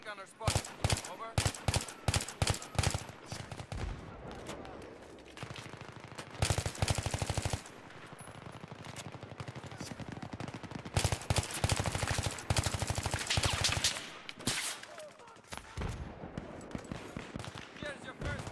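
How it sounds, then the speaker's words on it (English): Automatic machine gun fire in Battlefield 3 rattles through in long rapid bursts with brief gaps, loud and close, mixed with other gunfire and battle noise, and no speech over it. "Enemy machine gunner spotted."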